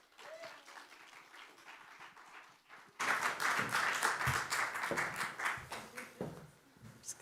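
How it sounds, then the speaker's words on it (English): An audience at a talk on bird strike research breaks into applause, starting abruptly after a quiet stretch with a faint voice, then a dense, steady round of clapping that gradually thins toward the end. "let's give a big round of applause for Heidi"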